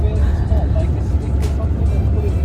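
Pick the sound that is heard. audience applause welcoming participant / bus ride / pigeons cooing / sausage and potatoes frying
bus ride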